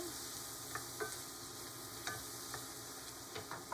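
Egg mixture for an asparagus frittata with fresh chives being stirred in a bowl: a soft, continuous scraping swish broken by light clicks of the utensil against the side, close and quiet, with no voices.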